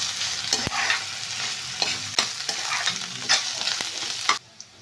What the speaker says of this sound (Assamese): পিয়াজখিনি অলপ সময় ভাজি লোৱাৰ পিছতে ইয়াতে আদা নহৰুৰ পেষ্ট অকমান দি দিলো।